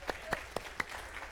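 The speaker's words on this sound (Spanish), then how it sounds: "Un aplauso al Señor." Scattered claps from a small church congregation during a Spanish-language Bible study service, four or five distinct hand claps spaced apart over a low room murmur rather than sustained applause.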